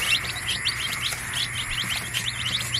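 Newly hatched Basilan and Rhode Island Red chicks peep in a brooder, a busy stream of high, rapid chirps from several birds close by, overlapping and continuous.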